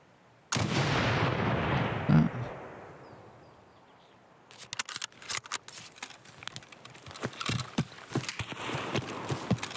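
Gunfire in Escape from Tarkov during a Labs raid: one loud close shot with a long decaying echo, a lull, then a string of rapid, uneven shots and bursts that grow denser toward the end.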